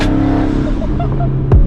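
Twin turbo Mustang GT V8 revving in a short sustained burst, loud and close, the engine note holding steady before a sharp rising surge at the end.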